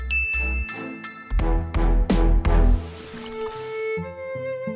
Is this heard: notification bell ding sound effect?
yes